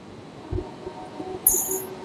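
A Panskura–Digha EMU local train pulls out of platform 1 at Nandakumar station, a low rolling rumble with wheel thumps and a brief high squeal.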